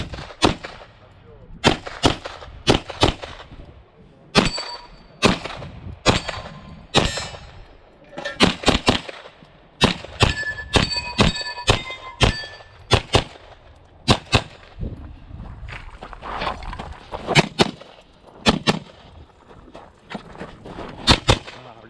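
Rapid, sharp Ruger PC Carbine gunshots ring out in bursts during a USPSA competition stage, loud and close, with metallic clangs of steel targets scattered among the shots.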